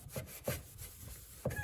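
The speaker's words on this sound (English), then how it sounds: "being a little rougher with a sponge" A sponge rubbed firmly over grouted subway tile on a backsplash, producing a few short, rhythmic scrubbing strokes about half a second apart, close and fairly quiet with no talking.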